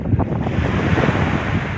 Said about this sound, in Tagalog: Hangin na galing sa dalampasigan.